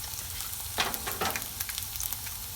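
Carrots, capsicum and cabbage frying in a pan for spring roll filling give a soft, steady sizzle with a couple of brief stirring scrapes near the start, heard alone and fairly quiet.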